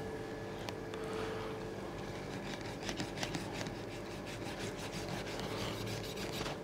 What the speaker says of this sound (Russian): Ну, прям так легко берете, проводите ножом